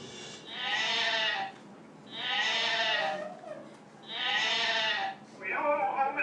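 Sheep bleating in three long, loud, wavering calls with short pauses between them, then the start of a fourth, close by and with no talking.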